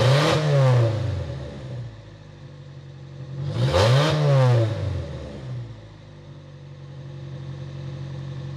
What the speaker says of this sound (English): I'll give it a little rev here.